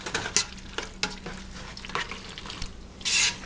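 Noodles are tossed and mixed through a creamy sauce, giving wet squelching, slapping stir sounds in irregular bursts, close up, with a brief louder rush near the end and no talking.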